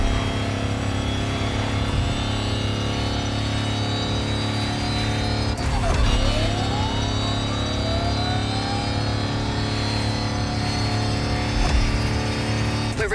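Race car engines droning in The Crew Motorfest during a head-to-head duel between an Egoistic and a Terzo Millennio, a steady dense mechanical hum with pitch sweeps as the cars shift and turn, continuous throughout.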